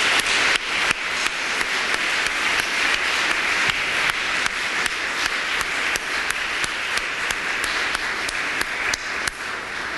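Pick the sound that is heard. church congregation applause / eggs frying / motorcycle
church congregation applause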